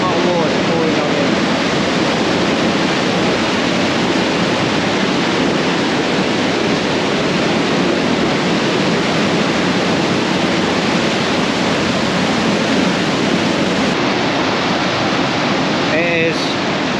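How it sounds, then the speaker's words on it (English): Waterfall at the Devil's Cauldron in Lydford, a massive volume of water pouring down as a loud, unbroken roar that fills the whole stretch close by. "Massive amount of water pouring down here."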